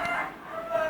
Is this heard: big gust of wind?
no